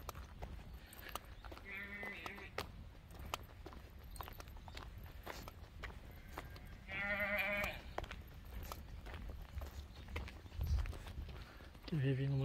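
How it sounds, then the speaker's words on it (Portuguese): A goat at a small Japanese farm-style animal park gives two or three wavering bleats amid footsteps, clopping and people chatting nearby, with a final short bleat at the close. "É só ver esse bode aqui."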